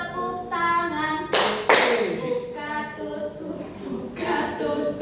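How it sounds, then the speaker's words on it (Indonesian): A few sharp hand claps ring out in a classroom during a chanted ice-breaking game, with two loud claps near the middle, set amid sung or chanted voices. "Buka tutup, tepuk tangan"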